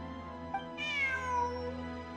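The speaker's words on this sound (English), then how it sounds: "Look, a cat." A cat in the game Genshin Impact gives a single clear meow, preceded by a tiny chirp, rising then falling, moderately soft over quiet sustained background music.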